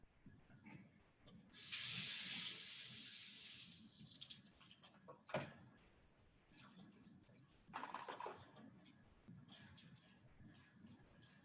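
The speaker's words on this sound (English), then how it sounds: "And then this time I'm going to wash the funnel." Tap water runs in a sink while a funnel is washed with a little soap, a loud hissing stream for a couple of seconds, then softer splashing and a second burst of running water.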